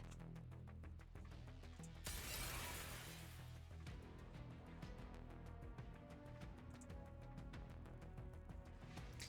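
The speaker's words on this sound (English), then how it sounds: "The familiar and terrifying sound of glass breaking fills the air." Glass shatters in the video game Nikke: a sudden bright crash of breaking glass rises at about two seconds and fades over a second or so, set against steady game music that plays throughout.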